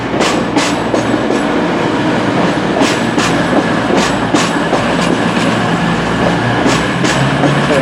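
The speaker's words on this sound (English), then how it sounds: "Here comes my train." A Northern passenger train on the Hope Valley line pulls in, loud and close, with steady rumble and rhythmic clickety-clack of wheels over rail joints throughout.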